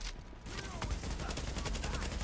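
Rapid bursts of gunfire ring out in the video game Tom Clancy's The Division, a dense crackling volley of shots that runs continuously and fairly close, with no talking over it.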